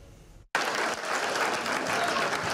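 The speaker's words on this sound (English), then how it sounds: "A relentless applause welcomed one of Illinois' top ag educators to the stage Thursday morning." Sustained applause from an audience welcoming an agricultural educator to the stage at a surprise award ceremony, bursting in abruptly after a quiet moment and continuing loud and dense.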